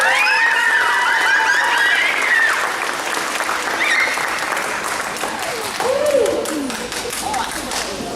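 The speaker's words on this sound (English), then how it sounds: "Round of applause for my mom." Resort magic show audience breaks into loud, sustained applause and cheering, a dense wash of clapping lasting throughout with excited whoops and voices mixed in.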